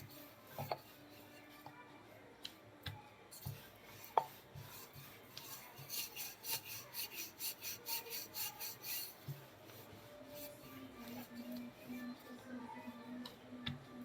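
A rolling pin presses bhatura dough into long, naan-like shapes, making soft rhythmic rubbing strokes and light knocks on the board, close and quiet.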